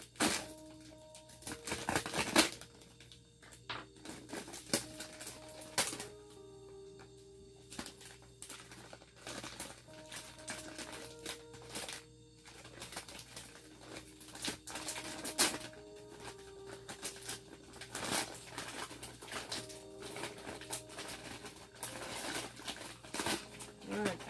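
A powdered milk bag is cut open with a knife and torn apart, giving repeated close crinkly rustles, snaps and ripping bursts in uneven clusters throughout.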